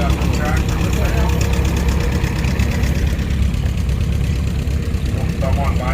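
A 1945 International I-4 tractor engine idles steadily at a threshing bee parade, a loud, even low chug heard up close with a person talking over it.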